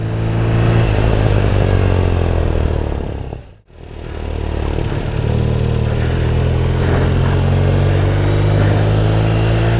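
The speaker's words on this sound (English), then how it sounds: "Love the sound and the torque of this boxer motor." A 2017 BMW R nineT Racer with its boxer engine being ridden, a loud, steady engine drone close by that briefly dips and cuts out, then swells back to a sustained rumble.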